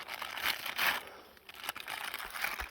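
A plastic bag holding a spent mushroom block crinkles and rustles in close, uneven bursts as it is handled outdoors, loud and crisp.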